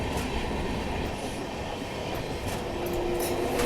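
A train on an Indian railway rumbles past close by, a loud, steady clatter of wheels on track with occasional faint squeals, continuous throughout.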